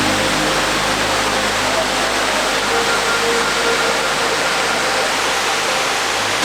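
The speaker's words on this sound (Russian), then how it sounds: "и вот он, наконец, красавец-водопад" A waterfall on Madeira, Portugal, pours in a loud, dense, unbroken roar of rushing water heard up close, steady and even throughout with no voices.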